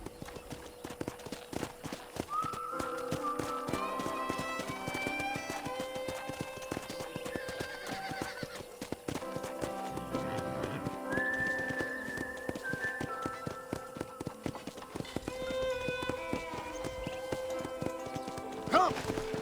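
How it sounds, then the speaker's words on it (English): Steady clip-clop of horse hooves at a trot in the video game Red Dead Redemption, with an occasional whinny, over continuous background music and ambient noise. "let's see if you can still ride a horse"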